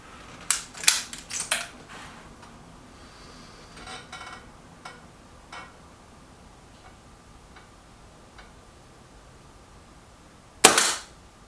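A Stoeger XM1 air rifle fires at a target with a single sharp, loud crack near the end, after several softer clicks and handling noises in a quiet setting.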